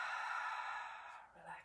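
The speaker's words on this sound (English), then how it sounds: "And breathe it out." A deep breath is exhaled during a Pilates plank exercise, a soft airy whoosh of breath close to the microphone that fades out after about a second.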